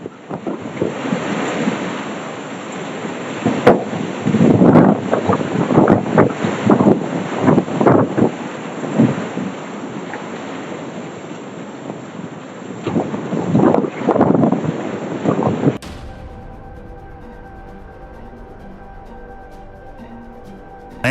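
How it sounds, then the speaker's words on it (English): A fierce whirlwind in Kentucky blasts the microphone in loud, gusting surges of roaring wind for about fifteen seconds, then cuts abruptly to a much quieter, low background hum. "A fierce whirlwind blew the lid off a hot water tank in Kentucky, leaving the residents terrified."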